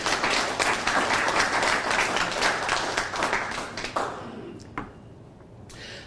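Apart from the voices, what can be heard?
audience round of applause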